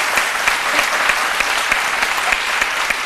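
Dense, steady applause from an audience at an African football awards ceremony, many hands clapping close and loud throughout without a pause.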